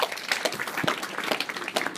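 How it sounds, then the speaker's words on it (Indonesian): Applause from a church congregation during a sermon, a steady dense patter of many hands clapping at once, fairly loud and continuous. "Berikan tepuk tangan yang meriah."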